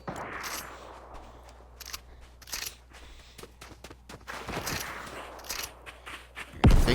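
Sniper rifle shots in a Fortnite duos match ring out as several sharp, isolated cracks spaced unevenly over a quiet game backdrop, with a louder burst right at the end.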